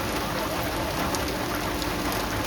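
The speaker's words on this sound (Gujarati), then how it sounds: "વરસાદ તો ભાઈ એવો પડે છે કે ભાઈ વાત જવા જો કઈ ઘટે નહીં એવો વરસાદ પડે છે" Steady heavy monsoon rain pours down without letup in a Gujarat village, a dense, loud hiss of drops drumming on surfaces close by.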